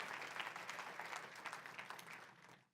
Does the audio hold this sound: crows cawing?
no